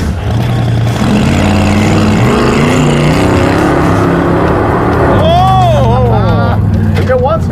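A Cadillac car lurches and bounces in bunny hops as its engine rumbles loudly up close, the pitch rising and dipping with each surge, while people talk and shout excitedly over it.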